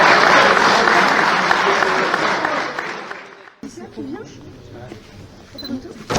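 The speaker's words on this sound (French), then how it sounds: "on peut l'applaudir très fort." Indoor audience clapping loudly for a new ambassador at a motorcycle airbag event, dense applause for about three seconds before it fades out and people start talking.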